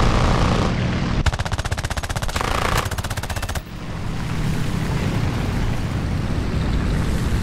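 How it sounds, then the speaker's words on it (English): Rapid machine-gun bursts from an enemy plane in the War Thunder air combat game rattle loudly over a constant engine roar, firing in two long strings before the drone carries on alone. "He's already firing."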